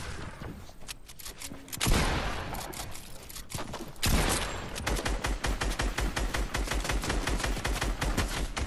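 Distant gunfire in a shooter video game, with sporadic shots early on giving way to a dense, rapid rattle of automatic fire that keeps going steadily to the end.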